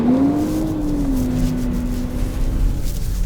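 A BMW X5 engine holds a steady, loud drone that rises slightly in pitch as it launches off the brake with little wheelspin and accelerates, with constant road and wind noise.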